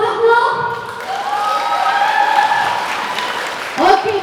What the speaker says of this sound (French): je veux les applaudissements maintenant